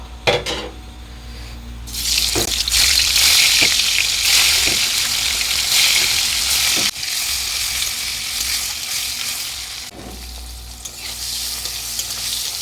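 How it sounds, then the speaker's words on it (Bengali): Paneer frying in a pan: a loud, continuous sizzle with a few soft stirring knocks and scrapes, and no voices. "এবার ভাজা করে নেবো পনিরটি।"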